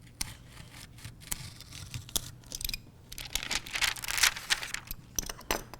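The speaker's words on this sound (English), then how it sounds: "You also will be using your tracing wheel." A patternmaking tracing wheel is pressed and rolled over paper, producing a close, dry, crackling and scratchy rasp with uneven bursts and brief ticks.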